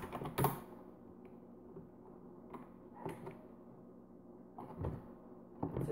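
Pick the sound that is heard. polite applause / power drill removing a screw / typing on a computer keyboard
typing on a computer keyboard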